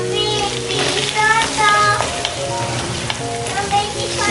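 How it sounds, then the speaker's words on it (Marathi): Curry leaves hit hot oil and crackle with a loud, close sizzle and spitting pops, while a utensil scrapes through the pan now and then. "याचबरोबर मी थोडासा कढीपत्ता टाकत आहे"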